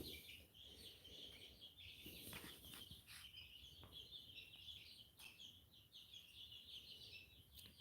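Birds kept in a bird garage chirp and call faintly in scattered bursts, with some rustling and a bit of flapping, heard alone and at low level.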